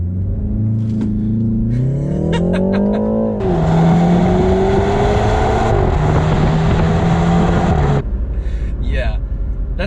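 BMW 330i xDrive with a four-cylinder turbo launching hard in sport mode: engine revs climb, then a loud surging roar as the car pulls away and accelerates through a gear change, close and continuous.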